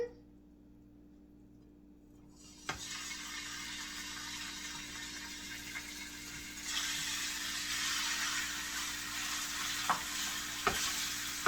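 About 1.5 pounds of beef goes into high-heat olive oil on a stovetop, and after a quiet start with a low hum, a loud sizzle erupts and builds into a strong steady sear, punctuated by a few sharp clicks.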